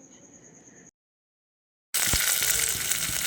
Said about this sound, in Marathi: इथे मी फोडणी देऊन घेत आहे सांबरला